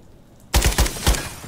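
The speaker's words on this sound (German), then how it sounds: "Feindliche Schüsse!" A rapid burst of four or five loud gunshots in Call of Duty: Modern Warfare 3 after a quiet moment, sharp cracks with short echoing tails, close and punchy.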